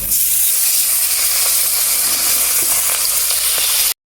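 Fish frying in hot oil gives a loud, continuous close-up sizzle and hiss that holds steady for about four seconds, then cuts off abruptly.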